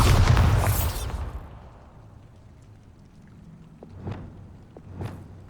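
A Bombarda explosion spell in Hogwarts Legacy bursts loudly at the start, then fades into a quiet rumble with two fainter crackling pops following, no voices.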